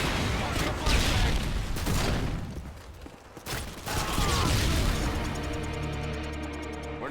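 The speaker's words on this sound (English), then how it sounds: "Tossing a flashbang." Flashbang grenade tossed in Call of Duty: Modern Warfare 2, a loud burst amid gunfire and game noise, followed by a sustained ringing drone as the blast's aftermath lingers; voices talk over parts of it.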